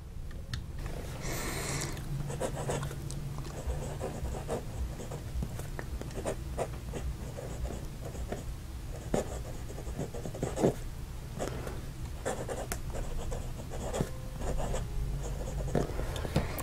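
A wooden hexagonal fountain pen scratches softly across paper in continuous strokes, close and quiet, with faint rustles and small taps as it writes.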